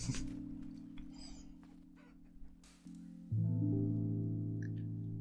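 Chickens cluck softly in the video game Vintage Story over a sustained synthetic drone and music, with a brief rustle midway.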